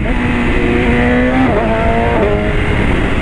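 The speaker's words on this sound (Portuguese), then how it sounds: "O barulho das trocas de marcha é zica" A BMW S1000RR motorcycle engine runs loud and close, its steady roar pitching up under acceleration and stepping down abruptly around gear changes, with no talking.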